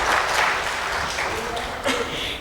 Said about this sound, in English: can we please have a big round of applause for all of them?